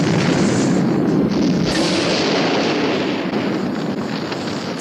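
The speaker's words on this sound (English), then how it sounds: "God, they were really big explosions." Big explosions ripping through a burning ship loaded with munitions and petrol, a continuous loud roaring blast and rumble that fills the whole stretch with no letup.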